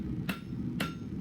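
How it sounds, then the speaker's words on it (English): A hammer strikes a bolo knife blank twice, about half a second apart, forging an inside curve on the knuckle side. The blows ring out sharply over a low, steady workshop hum. "Here I'm forging some inside curve to the knuckle side."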